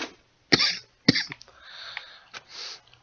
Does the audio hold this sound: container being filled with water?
no